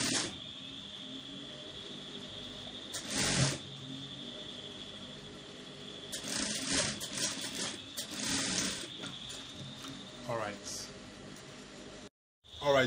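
A sewing machine stitches down a folded one-inch hem on brocade fabric, humming steadily at moderate level with a few brief pauses and bumps, while a person talks over it.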